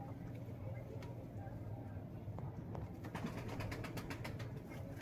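Fantail pigeons, white-feathered, coo softly and repeatedly from close by, with low murmuring calls running steadily under faint background noise and a few chirps toward the end.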